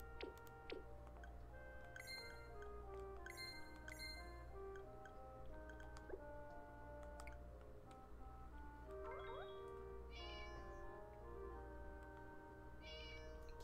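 A cat meows in Harvest Moon One World, with short mewing calls popping up among chiming game music and soft ticking, all quiet and without speech.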